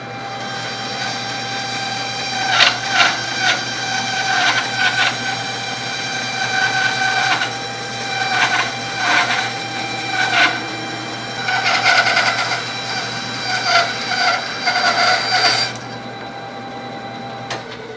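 A table saw runs with a steady motor hum while a board of wood is pushed through the blade with a push stick, giving repeated louder bursts of cutting noise over the drone.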